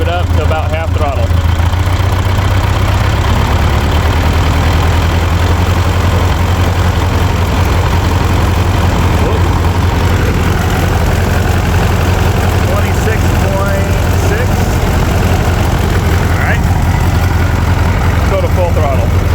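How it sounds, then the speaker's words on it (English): A 1940 Ford 9N tractor engine runs at a steady low idle, then is revved up to about half throttle, a loud continuous rumble close by with a strong low drone throughout. "This is at idle. I'm gonna rev it up to about half throttle."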